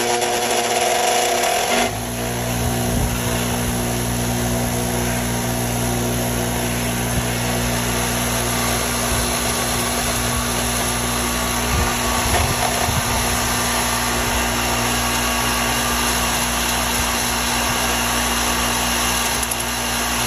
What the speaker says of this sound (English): run the wire brush against the chuck while the drill is actually working